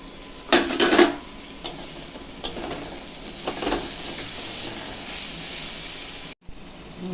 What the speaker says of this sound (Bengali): মশলাটা দেখি ঢাকনাটা খুলে কত দূর হলো